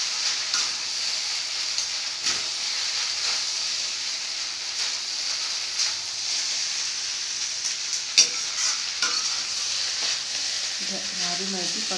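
Maggi noodles with green coriander sizzle steadily in a pan while being stirred, a constant bright frying hiss with occasional scraping knocks of the spoon, and a faint voice near the end.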